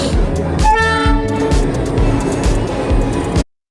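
A passenger train on the Kalka route rolls in close and loud, wheels clacking in a steady rhythm over rail joints, with a horn blast sounding early on before the sound cuts off sharply.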